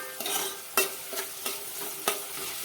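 Onions and tomatoes with salt being stirred as they fry in a pan, with a soft steady sizzle broken by several sharp scraping clicks of a spoon against the pan.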